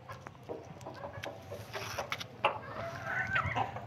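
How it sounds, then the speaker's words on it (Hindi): A white rooster clucks and calls to hens near a coop, soft repeated calls over light patter and background noise. "अभी इसे कोई अंदर चीज़ मिली तो ये मुर्गियों को अंदर बुला रहा"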